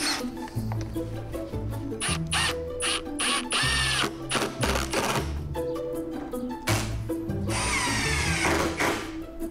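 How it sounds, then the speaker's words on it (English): A power drill drives screws to fix battens over plastic sheeting for an aquaponics garden wall, with repeated close whirring bursts and ratcheting clatter separated by short pauses. "We just need to screw those in place."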